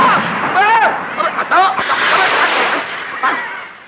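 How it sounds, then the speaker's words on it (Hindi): A firecracker bursts in a narrow lane, giving sharp loud cracks and pops amid noisy crowd commotion, with voices and background din throughout. "हमारे कदमचे में पटाखा फोड़ दिया।"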